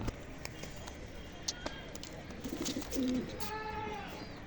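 Young pigeons coo in a low rolling burst midway, followed by higher wavering calls, amid light rustling and knocks, with someone speaking nearby.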